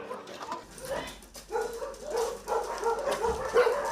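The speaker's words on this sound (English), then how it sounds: "This center in Yuen Long houses dozens of stray dogs" Stray dogs at an animal shelter in Yuen Long, Hong Kong, barking and yipping repeatedly in an overlapping chorus, fairly close and loud throughout.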